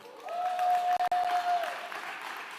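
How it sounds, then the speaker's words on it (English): An audience at a hip hop 50th anniversary celebration claps in a steady, moderately loud wash with a brief dropout midway, while a held tone runs beneath the first half. "Clap it up."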